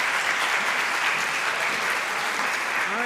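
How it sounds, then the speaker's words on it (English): An audience at a gathering applauds with steady, dense clapping that fills the whole stretch at an even level. "You guys give them a round of applause because they're great."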